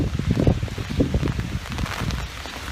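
Rain falls outdoors in a natural setting as a steady soft hiss, with low gusty rumbles of wind buffeting the microphone throughout.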